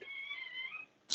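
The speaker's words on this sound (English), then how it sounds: "if you can hear my cat in the background," A single drawn-out indoor house cat meow, fairly faint and nearby, lasting about a second, followed by a brief sharp noise.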